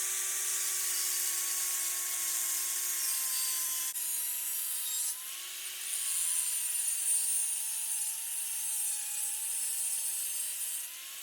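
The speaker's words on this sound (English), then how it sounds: "So you can see what I'm grinding off right now" A power grinder works a homemade prop spear blade made from Lowe's hardware materials, giving a steady high-pitched whine with shifting tones, a short pause, then renewed grinding.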